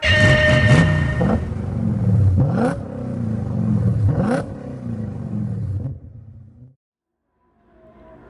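Race cars in a sim racing game roar and rev together at a night start on the Sardegna Road C circuit, with loud, layered engine notes climbing through rapid gear changes before cutting abruptly to near silence.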